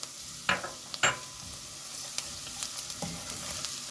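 Tomato paste sautéing with garlic in a pan, a faint steady sizzle broken by several sharp spoon scrapes and clicks from stirring, close and quiet with no voices.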